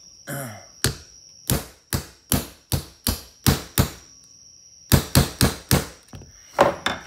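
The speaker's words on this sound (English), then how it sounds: "get the right size punch here and knock this out." A punch is tapped with a hammer to drive a pin out of a Canik TP9SFX/SF Elite pistol, giving a steady series of sharp, close metallic taps, about a dozen in quick rhythm with brief pauses.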